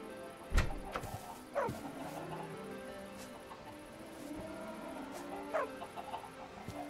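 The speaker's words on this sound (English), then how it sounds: "Let me go ahead and pick up this chicken." Chicken clucking in the Minecraft video game, a few short clucks spaced over several seconds, moderately close against quiet ambient game sound.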